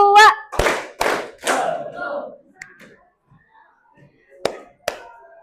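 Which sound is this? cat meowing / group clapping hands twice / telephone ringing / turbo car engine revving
group clapping hands twice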